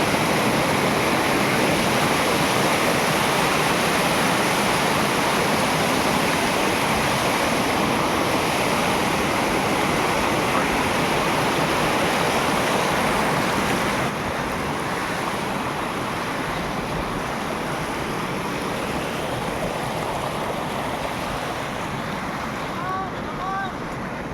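Steady broadband rush of water from a waterfall at a tourist spot near Munnar, loud and continuous throughout, with wind buffeting the microphone and the level dropping slightly partway through.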